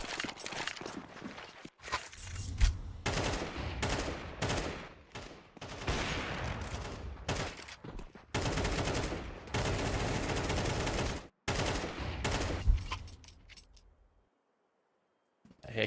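Gunfire in a competitive tactical shooter match, loud bursts of rapid shots and fusillades in clusters with short gaps, footsteps between them, and near silence at the end.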